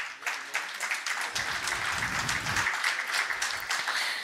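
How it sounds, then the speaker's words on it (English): An audience at a clean energy summit keynote session applauds, a moderately loud, steady wash of many hands clapping from a distance, with a faint low murmur partway through. "A big round of applause."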